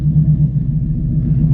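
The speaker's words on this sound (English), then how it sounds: "We're gonna take off in the Steeda Bullet." Steeda Bullet Mustang, a naturally aspirated race car, idling with a deep steady engine rumble close to the microphone, loud and unbroken, no voices.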